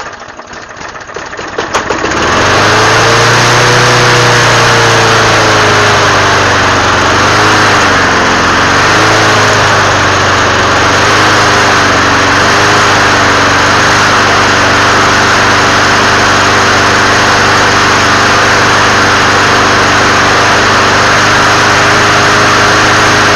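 A trash-picked Toro GTS mower engine is pulled and cold starts after a couple of seconds, then runs at a loud steady drone with a brief wavering in speed before it settles.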